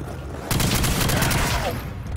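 Gunfire from a weapon in a custom zombie map of a video game comes as a dense, loud burst of rapid shots over steady game noise, running continuously through the short moment.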